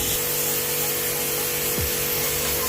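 A Texum Tx 50D pressure washer spraying a dirty AC filter gives a loud, steady, broadband hiss that stays constant from start to finish, with no talk.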